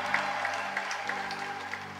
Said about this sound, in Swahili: Ongeza makofi kwa Bwana.